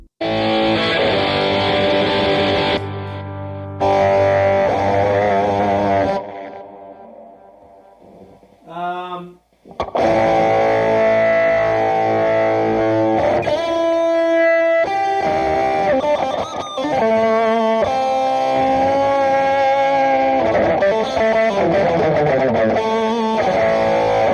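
Distorted electric guitar played through a Boss OD-20 pedal set for Rockman-style distortion, mostly chords with a short gap and a brief bend near the middle, loud and up close.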